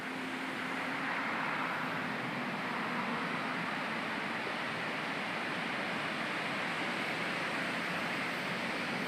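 Water rushes down a gorge into a valley as a steady, broad roar that stays loud and unchanging throughout, with no voices over it.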